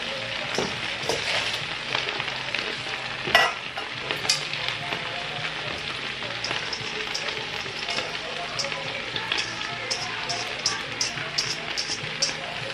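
Chopped, washed cabbage cooks down in a pan with a continuous frying crackle and occasional stirring clatters, one sharper knock near the middle, steady and close throughout.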